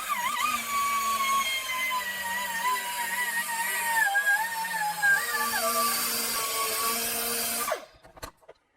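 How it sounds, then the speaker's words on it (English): An orbital sander smoothing a fillet weld on a metal rolling stool base, a steady close whirring drone with a wavering whine that runs for several seconds before cutting off abruptly. "And then I'll go to an orbital sander to blend it in."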